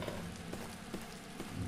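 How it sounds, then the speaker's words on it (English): Rain comes through a broken window into a room in The Black Mirror, a steady close patter of drops with scattered sharper taps, quiet and continuous. "The hole in the window lets cold wind and rain enter the room."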